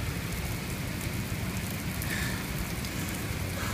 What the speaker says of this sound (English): So this is New York City when it's raining.